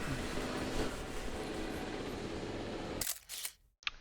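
A camera shutter fires in photo mode in the video game Jurassic World Evolution 2: a sharp, crisp click near the end, cutting through a steady background hum that then drops away.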